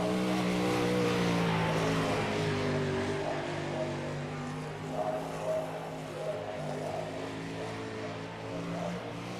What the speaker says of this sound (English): we got one car out here making laps right now.